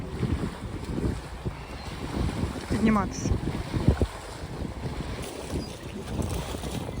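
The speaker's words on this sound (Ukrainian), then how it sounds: "Ви можете зараз чути а, такий плескіт хвилин." Waves splash steadily against a boat amid gusty wind noise, with a person speaking briefly over the water.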